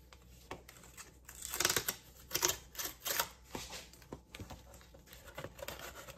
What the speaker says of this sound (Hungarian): bontsuk ki ezt a rizslapot, és akkor nézzük meg, hogy milyen is ez belülről